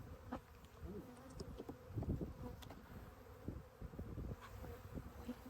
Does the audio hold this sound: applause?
no